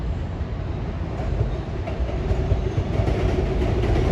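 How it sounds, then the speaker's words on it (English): A Long Island Rail Road M7 electric train passes in the distance near Long Island City, giving a steady, dense rumble and clickety-clack of wheels on rails that holds throughout with no talking. "In the distance, you'll see this Long Island Railroad M7 drop down into Line 4."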